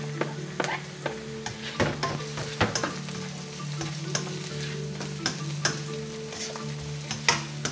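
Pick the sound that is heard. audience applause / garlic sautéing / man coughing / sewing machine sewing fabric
garlic sautéing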